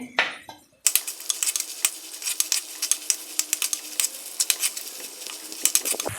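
Onions and curry leaves are stirred in a pan for an oil sardine curry. A spoon clinks and scrapes against the pan in quick, irregular taps over a soft sizzle, close by and without speech.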